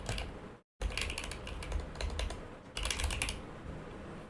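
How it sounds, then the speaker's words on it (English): Rapid tapping on a computer keyboard in short bursts of clicking keystrokes, close and clear, with a brief pause early on and no talking. "she's going to type in fund for retirement"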